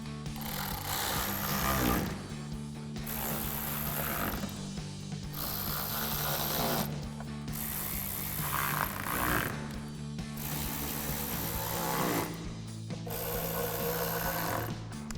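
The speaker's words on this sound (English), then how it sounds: "grab our ratchet with our T15 socket and install our 6 screws" A ratchet with a T15 socket driving six screws into a 2020-2023 Silverado 2500 headlight housing, heard as close bursts of rapid clicking broken by short pauses, over steady background music.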